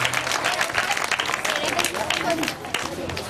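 A church congregation bursts into dense, continuous applause that fills the room with an even wash of clapping for the whole stretch.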